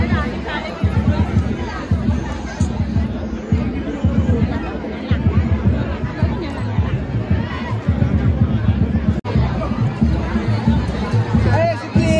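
Dense crowd at Aai Ekvira temple on a busy Sunday, a continuous babble of many voices and chatter close around, loud and unbroken throughout with one brief dip near the end.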